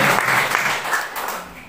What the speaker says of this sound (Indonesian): Tepuk tangan dulu yang meriah buat Tuhan Yesus Kristus.